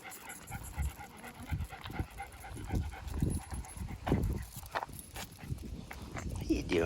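A playful dog pants rapidly and steadily close by, breaths mixed with shuffling paw steps and movement, while a person talks over it throughout.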